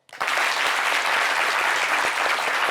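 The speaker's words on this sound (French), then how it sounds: "Bon, on va applaudir pour moi également." Studio audience clapping steadily at a French-language television talk show, a dense, sustained wash of applause that starts abruptly and holds loud and even throughout, with no voices over it.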